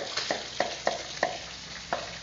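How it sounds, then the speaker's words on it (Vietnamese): Fish frying with lemongrass and chili in a breakfast eatery, a steady sizzle broken by about six short sharp crackles or utensil clicks spaced roughly every third of a second, close and moderately loud, with no talking. "À, cá hương chiên sả ớt."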